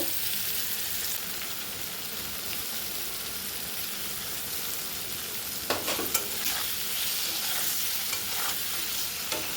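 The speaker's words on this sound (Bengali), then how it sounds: "এবার এই পনিরের টুকরোগুলো একটু ভেজে নেব।" Paneer pieces fry in salted oil with turmeric in a pan, giving a steady, dense sizzle that runs unbroken at close range, with a few light clinks of stirring near the end.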